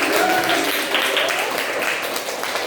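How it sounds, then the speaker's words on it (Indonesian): Schoolchildren in a classroom applaud at the end of a lesson, a steady, fairly loud stretch of clapping with some children's voices mixed in. "kita beri tepuk tangan."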